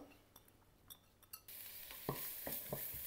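Onions and garlic in a non-stick pan sprayed with a little oil: a few light utensil clinks, then a sudden soft sizzle that keeps going under scraping stirs.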